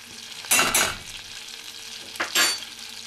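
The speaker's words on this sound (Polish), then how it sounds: "I zasmażamy." Butter and flour roux sizzling in a pan with two bursts of stirring, a quiet frying hiss running underneath between them.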